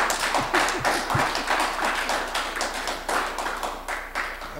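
An audience claps through a tribute honoring a Black Panther Party anniversary, fairly faint, with a steady patter of hands that stays light, uneven and sustained throughout.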